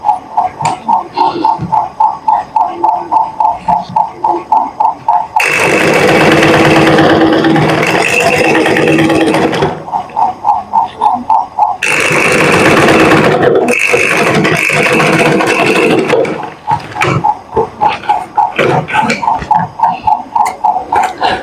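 A sewing machine stitches a souvenir bag in two loud sustained runs of several seconds each, separated by quieter stretches of a steady rhythmic ticking idle, with no talk.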